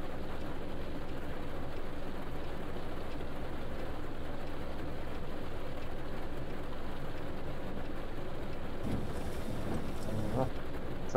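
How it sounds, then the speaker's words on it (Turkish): Steady rain in the Fernbus Simulator video game patters as a continuous broadband hiss, with a low bus engine rumble underneath throughout. "bir de yağmur yağıyor"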